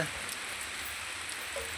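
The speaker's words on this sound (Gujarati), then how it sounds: "જો ફાઇનલ વરસાદ ચાલુ થઈ ગયો છે" Unseasonal rain falling outdoors over farmland where harvested peanuts lie getting wet, a faint, steady hiss of drops throughout the short stretch with no talk.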